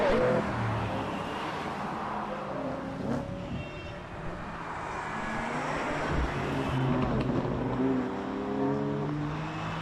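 BMW cars, a baby blue M4 followed by an M3, drive past on a BMW Mini Tour at a rally stage in Wairoa, engines rising and fading at moderate distance over outdoor ambience.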